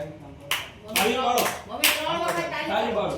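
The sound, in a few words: people clapping three times at a birthday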